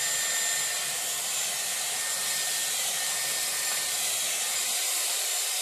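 Dyson Airwrap round brush blowing hot air through hair during a salon blow-dry, a loud steady airflow hiss that holds constant with no talk over it.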